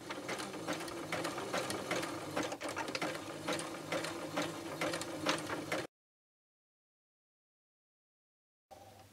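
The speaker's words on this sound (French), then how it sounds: "De ce milieu à ce milieu, faites un point de zigzag ou sur G." A sewing machine stitches a zigzag seam on a fabric scrub cap, a close, rapid mechanical whirring with a steady rhythmic clatter that stops abruptly, falls silent, then resumes briefly.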